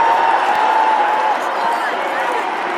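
Big crowd cheering at the Dome as Syracuse closes out an upset men's lacrosse win over number 4 Duke, a steady, loud roar of voices and whoops across the whole stretch with no break.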